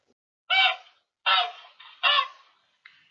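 Goose honking in four loud, nasal calls spaced about half a second apart, the last one short and quieter, alone with no other sound around them.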